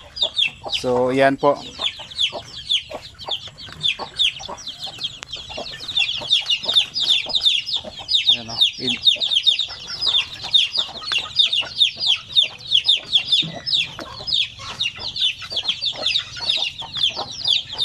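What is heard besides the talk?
one-month-old chickens clucking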